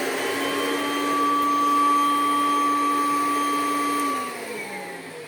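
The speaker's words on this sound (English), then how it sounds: "It's the hose that is resonating." A wet vacuum draws air through its hose, which resonates with a loud, steady whistling drone of clear pure tones over a rushing roar; near the end the pitch bends downward and the sound eases.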